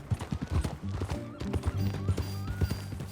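Horse hooves clip-clop at a steady walking rhythm in the Red Dead Redemption 2 game, close and moderately loud, with a brief snort or whinny mixed in and no talking over it.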